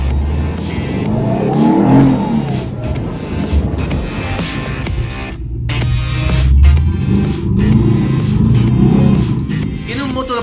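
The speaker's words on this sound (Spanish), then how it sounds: "Boxer gasolina de 2 litros y una potencia de solo 125 caballos." A Subaru Impreza with a 2-litre, 125-horsepower boxer petrol engine revs loudly and repeatedly on snowy roads in Mallorca. The engine note rises and falls close by, and a voice is heard over it.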